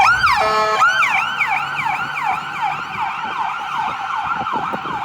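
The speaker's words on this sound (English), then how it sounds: "Ambulance going there." An ambulance siren wails on a city street near Quinpool and Robie, switching from a fast yelp to a rising-and-falling wail, loud and close, with traffic rumbling underneath.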